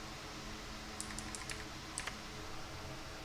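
Keys on a computer keyboard are tapped in a quick little burst, a handful of soft clicks over a steady background hiss, followed by a couple more taps a moment later, with no voices.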